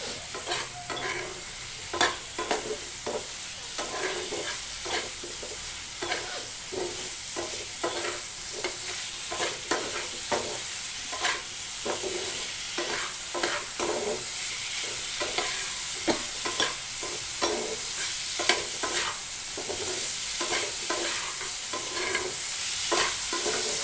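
Cut potatoes and beans fry in a hot pan, giving a continuous close sizzle with steady, rhythmic scraping strokes of a spoon stirring throughout, and no voices.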